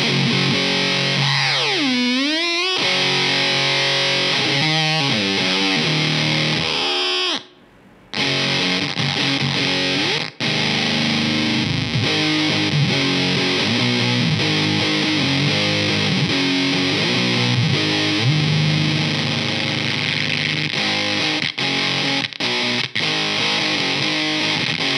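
Heavily distorted electric guitar played through a ZVex Fuzz Factory Vexter fuzz pedal, sustained, wildly sputtering and squealing fuzz with pitch sweeps and a brief dropout, loud and continuous, no talking.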